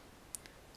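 A single computer mouse click while setting up AccuTrack 2020 database settings on a PC: one tiny, sharp, close click followed by a fainter second tick in a quiet room.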